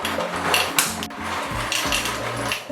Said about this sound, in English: Now we're gonna do the part that I'm really excited for, which is cooking pasta in my kettle.